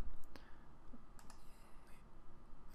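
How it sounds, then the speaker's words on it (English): A computer mouse clicking several times at uneven intervals, sharp faint clicks close to the microphone over a low background hum. "you can right mouse click and select delete"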